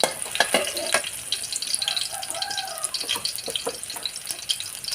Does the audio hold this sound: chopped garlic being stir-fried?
yes